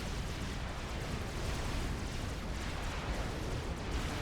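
Battle explosions as a commander destroys an enemy main base in the real-time strategy game Supreme Commander, a dense, continuous rumble of overlapping blasts and booms throughout.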